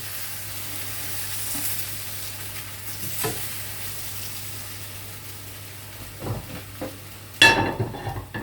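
Chunks of beef for a stew sizzle steadily in a hot pan, a broad continuous hiss with a few stirring clatters, growing louder and sharper near the end as more meat hits the pan.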